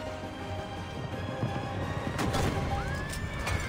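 A horse in the video game Assassin's Creed Ezio Collection lets out a sharp whinny amid hooves and a crash, fairly close and loud, over faint game background noise.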